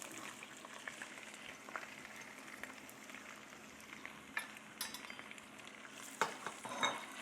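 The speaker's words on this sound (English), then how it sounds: "I'm going to toss in my onions and red and green peppers." Onions with red and green peppers fry in a pan for chicken cacciatore, giving a faint, steady crackling sizzle with occasional soft clinks and stirring scrapes near the end.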